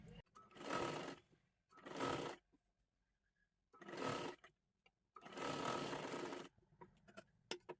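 A sewing machine stitches a kurti sleeve in four short runs of rapid whirring, separated by near-silent pauses, with light handling clicks at the end, fairly faint overall.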